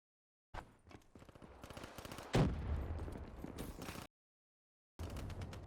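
Gunfire from a shotgun in the video game Black Ops 3, a burst of loud repeated blasts with one heavy boom mid-clip, then a short silence before more firing resumes.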